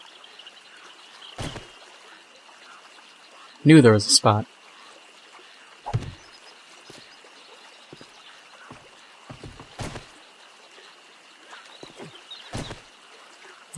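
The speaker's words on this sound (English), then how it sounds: "the nice calming sounds of flowing water" Flowing water in the 7 Days to Die video game, a steady faint hiss running beneath the whole scene, broken by a few short knocks and a brief burst of talk partway through.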